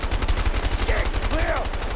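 Gunshots ring out in A Way Out as a rapid, loud burst of repeated shots over about two seconds, with faint voices in the background.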